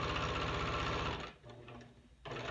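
Sewing machine stitching sport elastic onto fabric, a close, fast mechanical chatter that pauses for about a second while the fabric is handled, then starts again.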